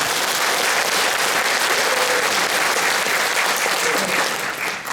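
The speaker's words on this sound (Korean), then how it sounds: "큰 박수 한번 부탁드립니다." An audience at a public lecture and discussion in Gongju claps steadily for five seconds, a dense, loud burst of applause that fades slightly at the end.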